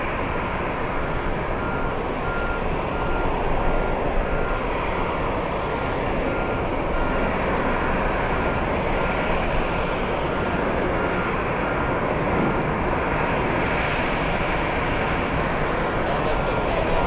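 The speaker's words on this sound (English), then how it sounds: "We have Iberia. It's an A350 900." An Iberia Airbus A350-900 jet arriving at JFK airport roars as a broad, steady, loud rumble that fills the whole stretch without fading, with faint voices mixed in.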